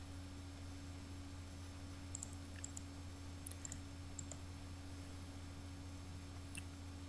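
Computer mouse clicks while working in Photoshop CS6, a handful of faint, sharp single clicks scattered across a steady electrical hum, with no voice.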